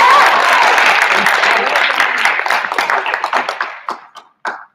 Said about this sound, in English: Give Angel a round of applause.